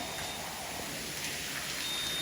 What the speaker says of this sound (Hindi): सिम्बा भी आ गया, बारिश को एंजॉय करेगा सिम्बा भी।